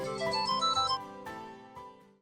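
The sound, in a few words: special phone ringtone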